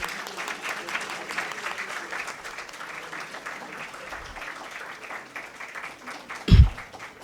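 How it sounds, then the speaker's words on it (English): Applause from an audience at an inauguration ceremony for a STEM innovation and incubation centre, a steady wash of clapping lasting several seconds with a brief louder thump near the end. "So big applause once again."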